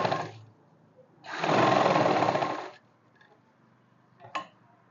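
Sewing machine stitching a simple kurti, close-up: short bursts of loud steady motor whirring, one brief run then a longer run of about a second and a half, with quiet clicks between.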